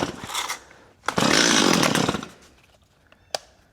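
A Stihl MS250 chainsaw of unknown condition, with a bar oil leak, is pulled and catches, roaring loudly for about a second before dropping to a rough idle, with a sharp click near the end.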